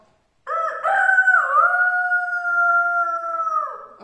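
A human voice imitates a rooster's crow, one long sustained wavering call of about three seconds, loud and close, after a brief silence.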